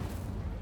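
An Incendio fire spell is cast on dry vines in Hogwarts Legacy, a short, loud, rumbling burst of fire with a heavy low-end whoosh.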